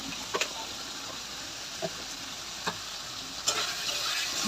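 Ground turmeric and chili powder frying in a pan while being stirred, a soft continuous sizzle broken by several distinct scraping clicks of the spatula, close up with no voices.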